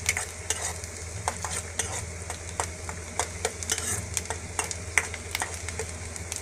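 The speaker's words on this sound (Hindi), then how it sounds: "1 और 2 मिनट ही सॉटे करना है।" Ingredients for Bombay Maggi sautéing in a pan sizzle steadily while a spoon stirs and scrapes in regular close strokes.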